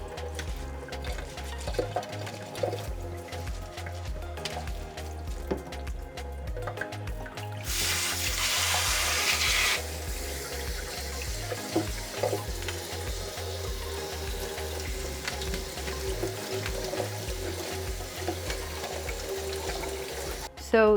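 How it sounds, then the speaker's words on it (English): Saag greens being washed in water at a kitchen sink, with running and sloshing water filling the background throughout, rising into a louder gush for a couple of seconds midway, while someone talks over it. "this is my little trick for making the process of washing saag a little bit easier"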